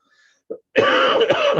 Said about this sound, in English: my cough is starting to come back on me